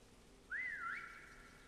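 A single rising-and-falling whistle from a prop hunt video game, fairly loud and clean, about half a second long, with a faint tail and no talk.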